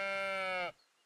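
A single long sheep bleat from a video game, loud and close with a rich harmonic tone, holding steady for most of a second before stopping abruptly into near silence.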